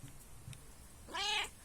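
A cat gives one short, clear meow near the end, close by and fairly loud over a quiet room.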